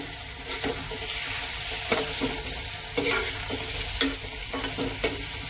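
Chopped tomatoes being stirred into a besan curry cooking in a pan, with a continuous soft sizzle and scattered spoon scrapes and knocks against the pan.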